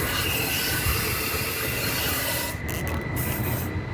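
Cavity wax sprayed through a 360-degree nozzle inside a Ford F150 truck frame, a loud, continuous close hiss that falters briefly near the end.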